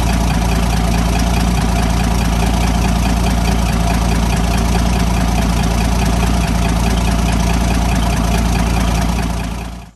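Peterbilt 359 truck engine idling with the exhaust removed, a loud, close, steady rumbling drone with uneven knocking texture that runs unchanged before cutting off abruptly at the end.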